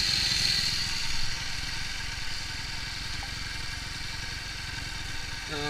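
A motorcycle engine runs steadily during carburettor tuning, a continuous close, buzzing idle with a slightly uneven, erratic RPM, loud and alone with no speech.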